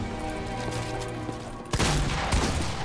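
Shotgun blasts in the video game Fortnite, a dense game soundscape with a sharp loud shot and burst of impacts partway through, no talking.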